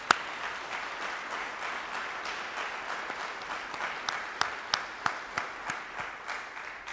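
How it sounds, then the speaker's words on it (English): An assembled audience at an Army retirement review for Lt. Gen. Bruce Crawford claps in a dense, sustained round, with a few sharp, distinct claps standing out near the end. "I would like to ask for a round of applause for those who put on this event."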